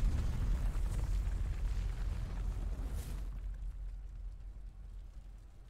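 A huge explosion in Final Fantasy 16 rolls out as a deep, sustained rumble with a brief burst near the three-second mark, then slowly fades, heard loud and alone.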